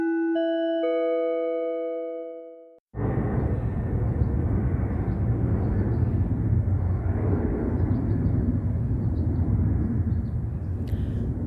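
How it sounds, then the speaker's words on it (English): Airplane noise rumbles as a steady, loud broadband drone for most of the early morning clip, after a brief opening of bell-like chime tones, with no speech. "It's the sound of the plane."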